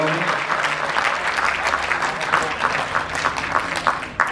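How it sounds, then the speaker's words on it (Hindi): Sustained audience applause at a Hindu religious discourse in Vrindavan, a dense, steady wash of clapping from a large gathering that carries on throughout at even loudness. "सभी लोग तालियों से भी अपना प्रणाम निवेदन करें"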